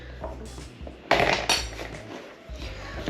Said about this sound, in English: I'm going to mix this together with my whisk, and we're just going to do a rough mix